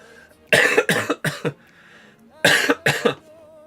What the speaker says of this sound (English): Cough. That won't go away.